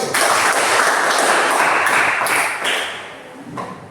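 Participants in a coding and artificial intelligence training class clap for a winning group, a brief burst of fairly loud applause that tapers off with a few scattered taps.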